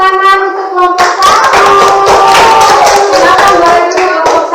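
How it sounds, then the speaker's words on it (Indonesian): A classroom of second-grade pupils claps for group 1, a loud, dense burst of many small hands slapping together in a steady patter over about four and a half seconds, with faint children's voices and tones mixed in. "Tepuk tangan untuk kelompok 1."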